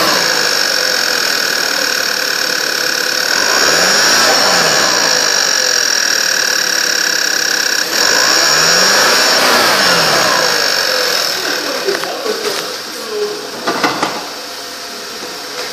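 A 2012 Volkswagen CC, with a bent part and a broken axle on one side, runs with a loud, close engine drone that rises and falls through several revs before dropping to a rougher idle near the end.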